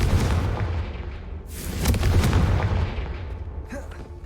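The Confringo fire spell in Hogwarts Legacy goes off with a sharp, booming blast midway through. A crackling burst follows and fades away, set over a low rumbling game background with a faint trailing effect near the end.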